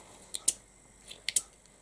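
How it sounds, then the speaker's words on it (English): Scissors trimming the edge of a card for a handmade card holder, two quick pairs of soft crisp snips, close and faint, with no talking. "So we might have to trim a little bit off of the edge of this."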